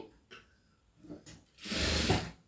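A sewing machine stitching cloth on a dots-and-cross border: a few short mechanical clicks of the mechanism, then a louder whirring run of stitching near the end.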